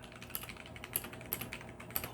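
Typing on a Maibenben 60% Bluetooth mechanical keyboard with Otemu Red linear switches, a quick irregular patter of soft keystrokes with a few sharper clacks, close and fairly quiet.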